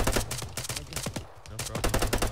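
Gunshots in the video game Arma 3: rapid, close cracks of automatic fire in dense rhythmic bursts, a brief lull in the middle, then more rattling shots.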